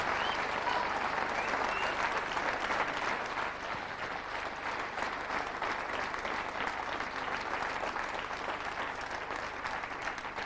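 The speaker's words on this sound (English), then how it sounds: "she deserves a round of applause" Sustained applause from an audience at the 2004 World Pool Championship ladies final for Emma Cunningham, a dense, steady wash of many clapping hands that stays loud and even throughout with no talk.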